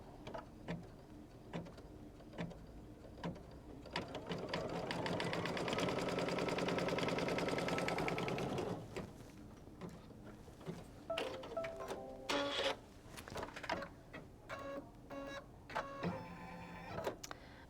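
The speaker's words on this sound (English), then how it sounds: "Let's go to our machine. And go ahead and stitch the seam line." Embroidery sewing machine stitching a quilt seam line, a fast, even mechanical whir for several seconds, then stopping and starting with short clicks and bursts of motor noise, fairly faint and without talk.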